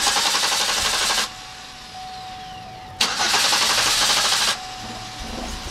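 Car engine fitted with a gasoline vaporizer being cranked and started, with two loud bursts of broadband engine noise separated by a quieter stretch where a steady tone lingers, no talking.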